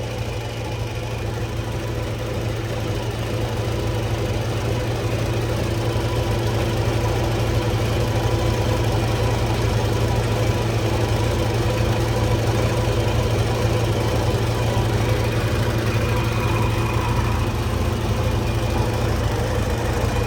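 Porsche 944 project car engine idling steadily with a low rumbling hum and constant mechanical chatter, loud and close, unchanging for the whole stretch with no talking.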